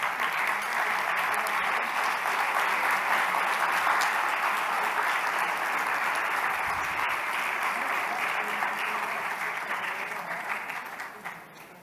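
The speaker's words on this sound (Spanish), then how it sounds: "Recibámoslas con un fuerte aplauso" An audience applauds steadily at a formal event in Colombia, welcoming the vice president and foreign minister; dense, even clapping for about eleven seconds that fades slightly at the end, with no talk over it.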